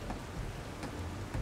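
Steady rain falling in the video game Desperados 3, a soft, even hiss of drops on surfaces with no voices, faint and continuous throughout.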